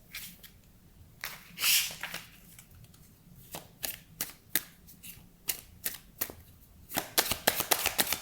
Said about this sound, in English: we're gonna shuffle cards